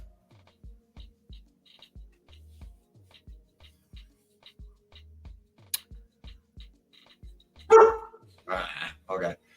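Dogs indoors bark near the end in a couple of loud, rough bursts, preceded by a long run of soft, regular thumping taps and a few faint clicks.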